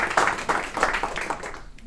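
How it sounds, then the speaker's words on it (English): Audience at a Dearborn open mic clapping for a performer, a dense patter of hand claps filling the room at moderate volume without a break. "let's give a round of applause to Wissam for sharing his work with us now"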